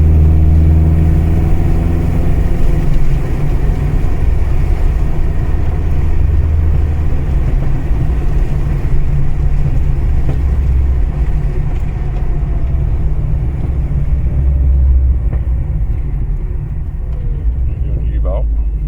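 A 1985 Sigma car engine running close by with a loud, steady low rumble and slight rises in revs, heavy and continuous throughout, with people talking over it.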